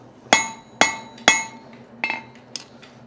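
Hot steel chain link, not yet at welding temperature, struck with a hammer at a blacksmith's forge: three loud ringing metallic blows, then two lighter taps, close and sharp with no talking.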